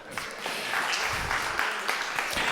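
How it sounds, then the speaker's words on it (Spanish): Audience applause during a talk on tarot, a soft, even spread of many hands clapping at moderate distance for a couple of seconds. "Lucifer, un aplauso para él, por favor"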